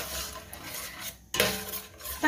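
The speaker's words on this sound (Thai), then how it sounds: "ค่ะก็ผัดไฟให้หอมนะคะ" Curry paste for a pineapple and mussel curry being stir-fried in a pan, with steady utensil scraping and clinking against the pan, a brief pause, then more stirring up close.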